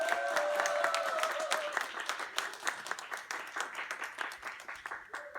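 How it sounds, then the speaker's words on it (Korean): An audience gives a big round of applause to welcome an aroma lecturer at a talk in Incheon. The dense clapping is loud at first and thins out over about five seconds, with a faint tone briefly in the background. "큰 박수로 환영해 주시면"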